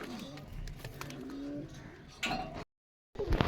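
Pigeons, likely giribaz or Pakistani breeds, cooing nearby in low repeated phrases, followed by a brief handling rustle and a short gap of silence.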